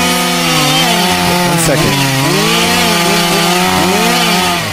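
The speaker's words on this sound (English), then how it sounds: "I can barely hear you over the chainsaw" A loud chainsaw runs close by with a steady buzzing drone whose pitch wavers as the throttle shifts, and a brief spoken word breaks in partway through.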